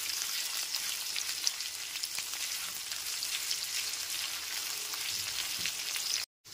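Chopped onions frying gently in a pan over a low-medium gas flame, a soft even crackling sizzle throughout that cuts off abruptly at the end.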